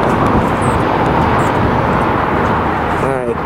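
An airliner roars loudly as it takes off at LAX, Los Angeles Airport, a dense and steady engine roar that holds throughout.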